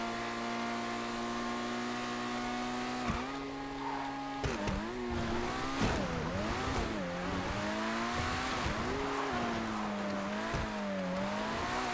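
An Omnus race car engine revs through a lap in GTA FiveM, a loud steady whine that rises and dips with gear shifts and cornering, with brief tire squeals along the way.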